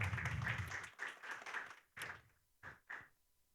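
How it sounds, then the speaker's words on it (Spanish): A church congregation gives a burst of rhythmic clapping that trails off into a few separate, fainter claps, all at low level and in a reverberant room. "¿Cuántos le dan un fuerte aplauso al Señor?"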